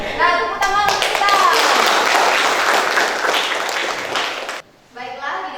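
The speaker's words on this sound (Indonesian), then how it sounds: "Nah, tepuk tangan untuk kita." A group of students claps together at a fashion design class presentation, a dense burst of hands lasting several seconds before cutting off abruptly, then voices resume.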